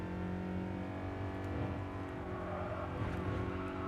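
Steady, close engine drone from lightweight, low-power race cars on medium racing tyres in a driving video game, held at an even pitch throughout with no talking.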